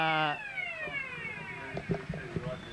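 At the end of a local football semi-final between Reservoir and Heidelberg West, a siren wails and falls in pitch at the start, then fades under the scattered crowd noise and a commentator's voice.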